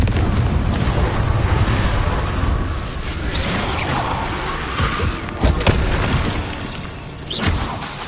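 A Bombarda blasting spell explodes in a video game, a deep rumbling boom that swells and rolls on for several seconds, with sharp crackling debris bursts near the end.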